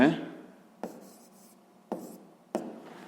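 Pen writing on paper during a sixth-grade geometry exercise, scratchy strokes in three short bursts, close and fairly quiet, with a voice speaking alongside.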